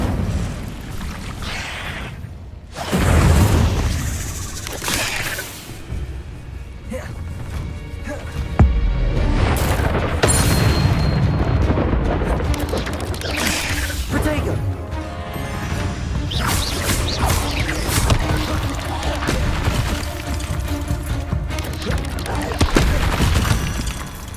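Incendio fire spells bursting in a video game duel, heavy booming explosions and crashing impacts rolling through a loud, dense battle, with a voice shouting and talking over the blasts.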